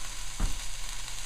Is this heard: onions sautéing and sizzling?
yes